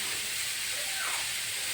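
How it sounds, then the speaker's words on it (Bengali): Papaya, potato and carrot pieces frying in a pan, a steady broad hiss of sizzling oil that stays even and close for the whole short stretch, with no talking. "এই দেখো পেঁপে আলু গাজর সব ভেজে নিচ্ছি।"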